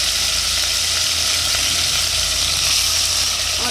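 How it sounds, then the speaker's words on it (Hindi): Meat, onions and ginger-garlic paste fry in a hot pan with a loud, steady, close-up sizzle that never lets up, and nobody speaks. "प्याज फ्राई हो गए हैं तो हम मीट डाल देते हैं, हाफ टी स्पून के करीब लहसुन अदरक का पेस्ट डाल देते हैं।"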